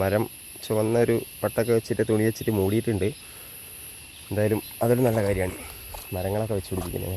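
A constant high-pitched drone of cicadas in a forest fills the background while a person talks continuously over it.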